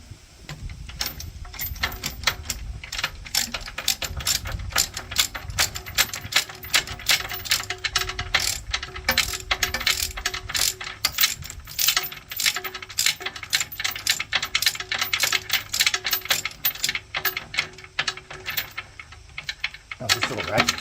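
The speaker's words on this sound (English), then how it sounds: "Oh, this little ratchet's annoying. It sticks every time." A small ratchet wrench clicks fast and steadily while new tracks are fitted to a Yanmar Vio 55 mini excavator, a close, nonstop ticking that runs the whole time with someone talking now and then.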